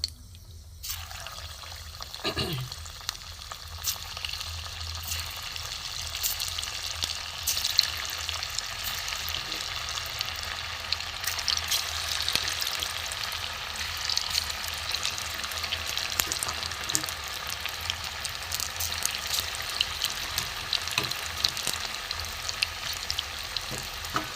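Cauliflower pakoras frying in hot oil, a steady, close crackling sizzle that runs on without pause, with faint stirring and bubbling and no talk.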